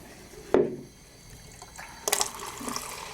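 Plain water, with no ice in the system, sputters and then flows from a jockey box beer tap, with a sharp burst at the opening followed by a splashing stream.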